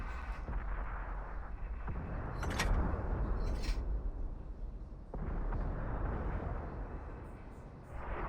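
Tank cannon shots in World of Tanks ring out as loud, booming blasts with rumbling decay, two main bursts separated by a few seconds and a third starting near the end, with no talking over them.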